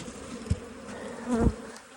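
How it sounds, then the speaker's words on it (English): Bees in a hive box during almond pollination hum in a dense, steady drone close by, with a few louder individual buzzes rising and falling over the background swarm. "there's plenty of bees down in there"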